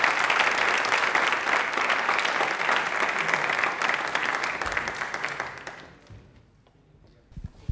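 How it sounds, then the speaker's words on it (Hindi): A studio audience at a Doordarshan Rajasthan Hindi quiz gives sustained, dense applause for Suresh Chandra Meena that fades out near the end, followed by near silence and a few faint knocks. "तालियां एक बार सुरेंद्र जी के लिए जोरदार वाली"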